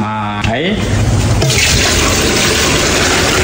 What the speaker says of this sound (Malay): Air ini untuk merebus tulang ya.